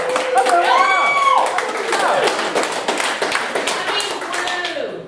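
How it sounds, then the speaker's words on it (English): Scattered clapping and hand taps from a small group at a roast, greeting a first attempt at stand-up, mixed under overlapping chatter and laughter. "Give it a round of applause, Griffin"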